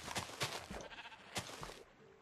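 Sheep bleating in the video game Minecraft, a few short, fairly faint bleats in quick succession over a soft noisy background.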